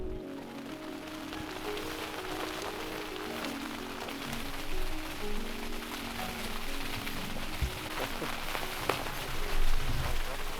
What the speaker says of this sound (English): Water is pouring down from the sky. It is raining cats and dogs.